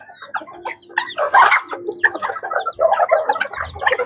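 White Leghorn hen and chicks clucking close by, with a busy mix of hen clucks and high chick peeps in quick irregular bursts.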